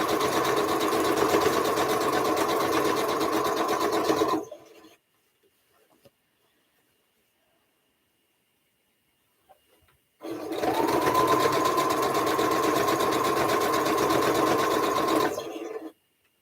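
Sewing machine stitching quilt blocks, two long steady bursts of fast whirring stitches separated by several seconds of near silence.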